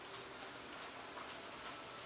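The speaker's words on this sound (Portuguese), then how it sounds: "tá chovendo aqui" Rain falls steadily outside, a dense, even hiss of drops that holds at one level throughout with no voices.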